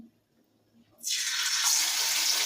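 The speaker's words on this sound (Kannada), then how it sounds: "ಎಣ್ಣೆ ಕಾಯ್ದದ್ರಿ ನಾ ಈಗ ಇದಕ್ಕೆ ಒಂದೊಂದಾಗಿ ಬಿಡ್ತೀನಿ ನೋಡಿರಿ" Chicken kebab pieces hit hot oil and start to fry, a quiet stretch giving way to a sudden, loud, continuous hiss of bubbling oil that swells and stays steady.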